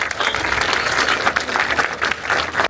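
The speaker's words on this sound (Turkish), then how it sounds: "Bence bir alkışlayalım." An audience at a talk about a migration route from Milas to Bodrum gives a museum director a round of applause. The dense, steady clapping is close and fairly loud and lasts a few seconds.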